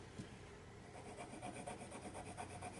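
Crayola Signature Blend & Shade colored pencil burnishing on paper: a brief, soft, close scratchy rubbing of waxy pencil strokes, faint and continuous.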